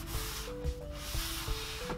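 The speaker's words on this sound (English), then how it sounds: "I'm using a sanding sponge here, which makes it a bit easier to apply even pressure and not take off too much material." Light sanding of a straight wooden board with a sanding sponge: soft, steady rubbing strokes, close and fairly quiet, with a few faint thumps as it moves along the wood.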